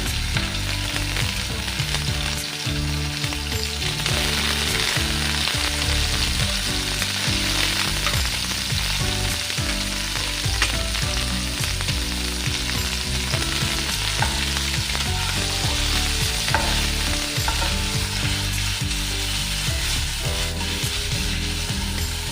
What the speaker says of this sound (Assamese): ইয়াতে মই এতিয়া পনীৰখিনি ফ্ৰাই কৰি ল'ম।